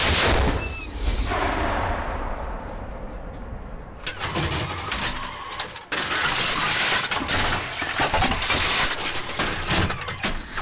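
A heavy tank cannon blast booms out amid a constant, loud engine rumble, with rough mechanical noise continuing after the shot, from a Ukrainian army tank in Kharkiv region.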